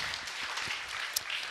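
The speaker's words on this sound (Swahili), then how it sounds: "Tupigie makofi." Applause from an audience at a community event in Kibra, Kenya, a steady wash of many hands clapping at moderate volume for the whole moment, with no talk over it.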